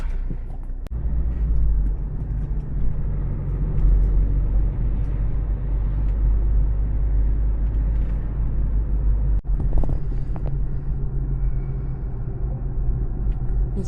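Car driving across a city, a steady low engine and road rumble heard from inside the cabin, continuous and moderately loud with no talking.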